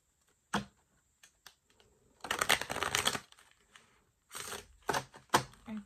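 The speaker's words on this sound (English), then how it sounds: "One more shuffle." Tarot cards are riffled and shuffled in several quick, crisp bursts separated by short pauses, close and fairly quiet.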